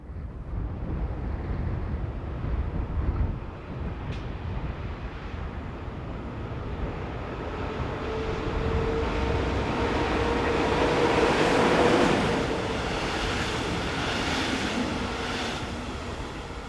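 A Class 143 passenger train pulls out of a station on the Koblenz to Köln service, a steady loud rumble of wheels and engine building slightly as it departs, with no voices.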